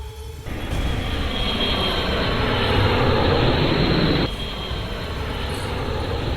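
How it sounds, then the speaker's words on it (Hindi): A loud, roaring engine swells in abruptly and holds at a steady, intense level, then drops back to a lower rumble near the end. "रनवे पर विमान टैक्सी कर रहा है। इंजन की आवाज धीरे धीरे तेज होती है।"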